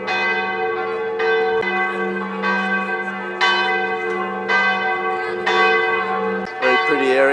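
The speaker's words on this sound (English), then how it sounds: "Both church bells are ringing now." Church bells ring in Zadar, Croatia, with rich layered tones struck repeatedly in a steady, loud peal that carries over a constant low hum, one bell falling away near the end.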